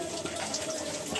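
Tap water runs steadily while hands are washed, a brief, even splashing hiss with no talk.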